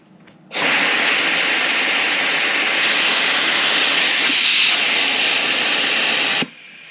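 Compressed air hisses loudly through a Ford 4R100 transmission solenoid pack from an F250 on a pressure test, a steady broad rush starting abruptly and cutting off sharply near the end, with no talking.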